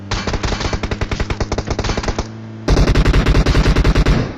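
Rapid automatic gunfire in a battle royale video game, loud close bursts of steady shots, a short pause, then another dense sustained burst.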